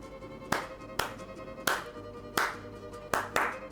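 A teacher claps hands in a rhythm, seven distinct claps spread at uneven intervals, fairly quiet and set against faint room noise.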